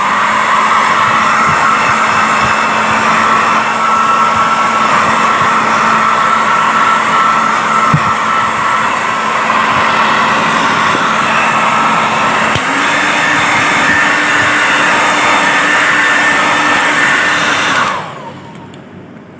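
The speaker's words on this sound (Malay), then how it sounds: "Aku dah keringkan dah dengan hair dryer tadi." A hair dryer blowing on a washed Sport Rider 125i motorcycle air filter, a loud, steady whirring roar that runs continuously with a slight shift in pitch partway through before cutting off abruptly near the end.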